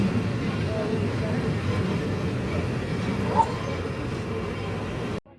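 Jamalpur Express train pulling out of Joydebpur junction in Gazipur, a steady loud rumble of wheels and carriages heard from inside, with a brief high squeal partway through before the sound cuts off.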